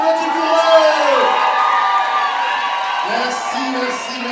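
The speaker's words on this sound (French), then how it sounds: "On applaudit, on applaudit, on applaudit pour eux." An audience cheers and whoops at a French-speaking event, with crowd voices rising over a steady background of talk and song-like voices that carry through the whole stretch.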